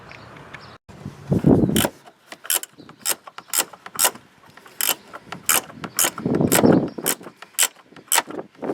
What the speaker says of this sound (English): we'll take and remove the two bolts that hold the master cylinder to the brake booster